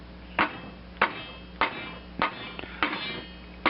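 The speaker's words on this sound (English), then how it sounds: "you can give it a little help with" Six sharp, evenly spaced taps from a soft-faced hammer striking metal while fitting a Mercury 7.5 HP outboard water pump, each a dull knock with a brief ring, roughly every half second.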